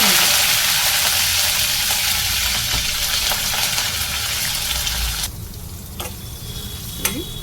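Curry leaves frying in hot oil with mustard seeds and cumin for tempering mint chutney, a loud steady sizzle that drops sharply partway through, then continues quieter with a few clicks and pops.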